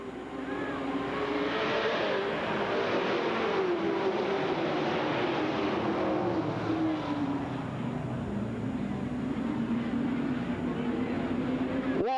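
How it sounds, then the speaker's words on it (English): Race cars run a heat race, producing a continuous loud roar of engines that swells and falls slightly as the cars pass at a distance. "Very smoothly out in front of the event is Danny Moosebuck in car 13."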